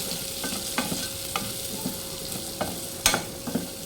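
Onions and chilli pieces frying in hot oil for a prawn and egg gravy, a steady sizzle with intermittent scraping stir strokes of a spatula against the pan, fairly close, no talking.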